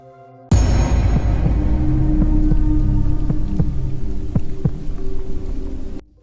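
Steady heavy rain hisses throughout, with several sharp thunder cracks and low rumbles breaking through; loud and close, beginning abruptly and cutting off at the end, with no voices.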